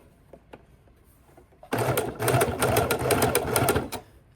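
A sewing machine stitches fabric slowly around curves. A few soft taps come first, then a short burst of rapid mechanical needle chatter lasting about two seconds, close and clear.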